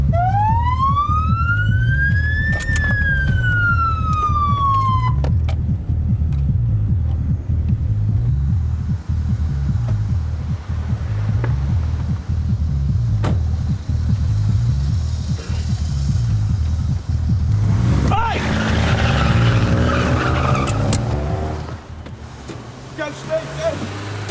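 A police car siren wails and sweeps in a rising tone over a steady engine rumble during a 1990s London police drama pursuit of a car that failed to stop, loud and continuous, with a brief harsh burst late on like skidding.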